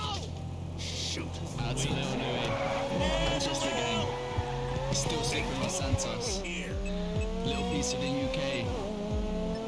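A red car races in the video game Grand Theft Auto V Online, engine revving and shifting with sliding pitch and brief tire squeals, loud and close, while someone talks over it.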